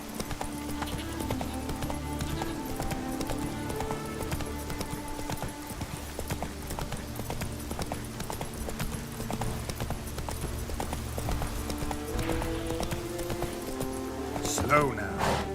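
Roach the horse gallops in The Witcher 3: Wild Hunt – Blood and Wine, a rapid, steady clip-clop of hooves running the whole way under game music and a man's spoken urging.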